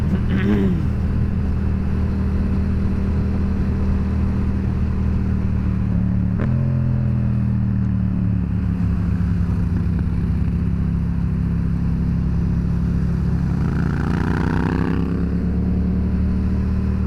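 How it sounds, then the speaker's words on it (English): Yamaha FZ motorcycle engines rumble and rev on a Friday night ride, a steady low drone with pitch rising and falling through gear changes, loud and close throughout. "I love the sound of these bikes, bro."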